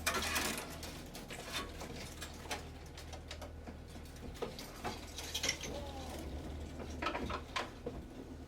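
A racket stringing machine pulling tension on a tennis string, close ratcheting clicks and gear whirs in short bursts, with faint birdsong in the background.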